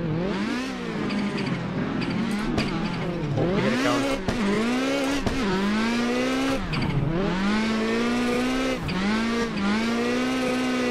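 A loud car engine revs and drops repeatedly in a continuous drifting run, with rising and falling pitch and occasional tire squeal; a brief exclamation at the start.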